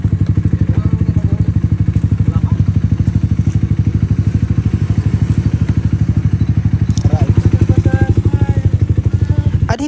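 A Suzuki Raider 150 Fi motorcycle arrives at an endurance rally checkpoint in Pangasinan, its single-cylinder engine thrumming loud and close in a steady idle-like beat, with scattered clatter and faint background chatter.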